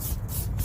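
Tire shine is sprayed onto a wet car tire in two quick hissing pulses, close and alone.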